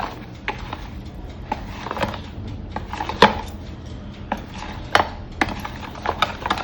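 Eggless brownie batter being mixed in a bowl, heard as a series of sharp, close clicks and scrapes spaced irregularly over a soft, steady background, with no talk.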